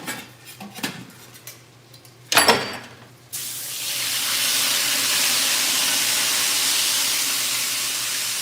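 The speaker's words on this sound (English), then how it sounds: "We're draining off majority of this oil." Hot cooking oil left over from frying chicken is drained from a pan. A few clinks of the pan and cookware come first, then a sustained loud hiss and sizzle runs steadily to the end.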